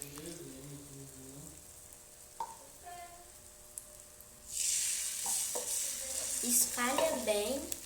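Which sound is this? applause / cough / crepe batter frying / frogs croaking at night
crepe batter frying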